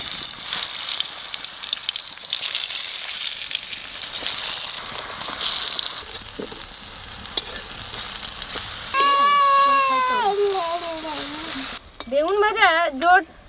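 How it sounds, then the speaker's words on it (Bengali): Eggplant slices frying in mustard oil give a loud, steady sizzle that runs throughout, with short tonal voice-like sounds rising over it near the end. "এবার বেগুন ভাজবো।"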